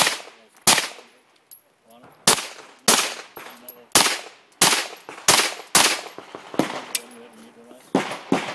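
Gunfire at a USPSA practical shooting match: a string of loud, close, sharp gunshots, some in quick pairs, with short pauses between bursts.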